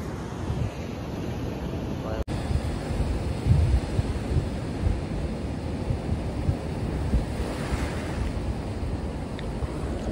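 Strong sea waves surge and crash against a rocky shore, a loud rumbling wash buffeted by heavy wind noise on the microphone, with a sharp knock early on and a bigger surge swelling later.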